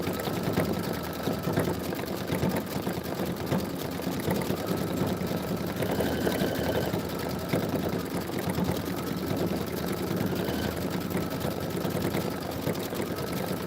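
An embroidery machine stitches out a design with a quilting appliqué pattern using vinyl, running with a steady, continuous mechanical hum and rapid needle chatter throughout.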